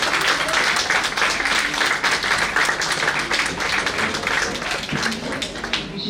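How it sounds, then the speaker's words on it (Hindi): An audience at a 2022 Indian award ceremony applauds steadily in a thick, sustained wash of clapping that stays fairly even before easing slightly near the end. "आपकी तालियां बजती रहनी चाहिए"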